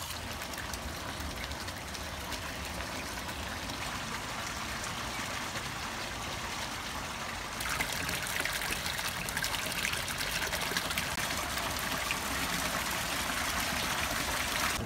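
Water runs steadily back from a raised barrel into a garden koi pond after the pump is shut off, a continuous trickling flow that grows slightly louder halfway through, with no voices.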